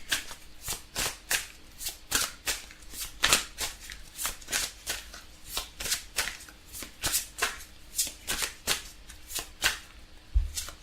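A deck of oracle cards is shuffled by hand in a steady run of about two dozen crisp riffling bursts, close and fairly quiet, with a soft thump near the end and no talking.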